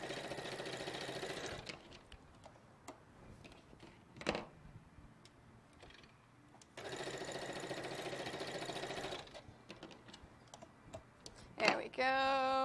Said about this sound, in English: Let's finish sewing this